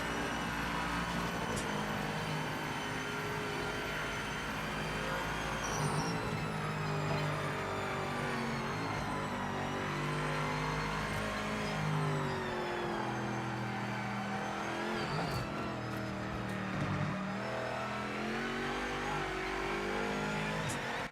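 A race car engine in the PS5 racing game Project Motor Racing drones continuously, rising and falling in pitch through gear changes and revs, steady and prominent throughout with no voices.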